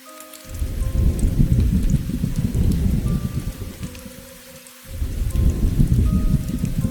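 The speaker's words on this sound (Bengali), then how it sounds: "প্রচণ্ড বৃষ্টি আর ঝড়ের কারণে ভয় পেয়ে পথ ভুলে" Heavy rain pours loudly in a thunderstorm with deep rumbling thunder, dipping briefly before surging back.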